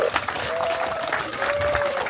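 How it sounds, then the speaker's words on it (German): Steady audience applause fills a summer fest in the Harz town of Thale-Friedrichsbrunn, a dense wash of many hands clapping with crowd murmur and a faint whistle-like tone mixed in. "Applaus für die beiden."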